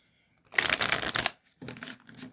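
A deck of oracle cards being shuffled by hand in two quick bursts, a crisp riffling flutter, then a short pause and a softer second shuffle.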